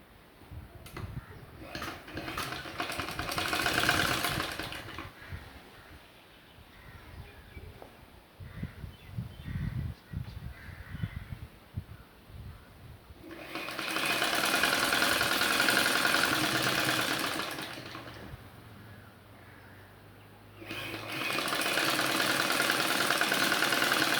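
A sewing machine stitches a sleeve onto a ready-made kurti in three separate runs, each a few seconds of steady whirring hum. Quieter handling sounds fill the gaps between runs.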